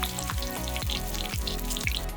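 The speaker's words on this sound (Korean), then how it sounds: "납작만두를 사와서 튀겼어요." Flat dumplings (napjak mandu) fry in hot oil, crackling and sizzling steadily and close by, with a rhythmic pulse of bubbling through the short stretch.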